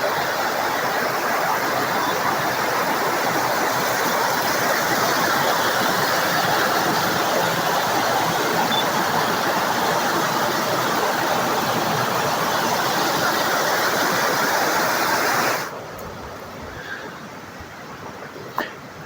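Water rushing along an old mill stream in a country park, a loud, dense, steady roar that fills most of the clip before dropping abruptly to a quieter background near the end.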